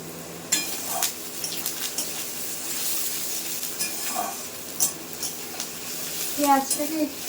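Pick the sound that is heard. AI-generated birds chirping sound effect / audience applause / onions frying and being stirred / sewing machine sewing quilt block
onions frying and being stirred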